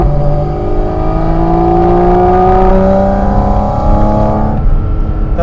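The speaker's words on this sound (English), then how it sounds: "It's an intake sound unlike any vehicle I have ever experienced in my life" A Porsche Cayman GT4 RS at half throttle on the road, its intake loud and close, with a droning, rising engine note and layered whistling tones that build steadily and then drop off as the throttle eases.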